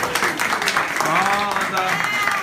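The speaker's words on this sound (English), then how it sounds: "let's give her a big round of applause" Audience applause after an office hours session, a dense wash of clapping hands heard together with voices and cheering from the crowd.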